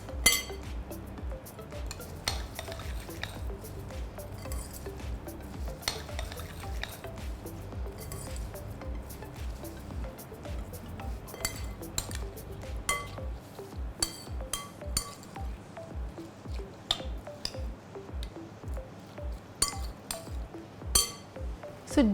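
Butternut squash Asian salad with white and black sesame seeds is tossed in a bowl, with a steady run of soft squishes and light clinks of utensils against the dish, close and continuous.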